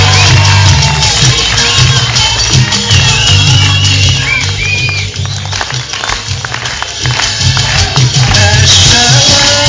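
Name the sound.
audience applauding and cheering at outdoor school play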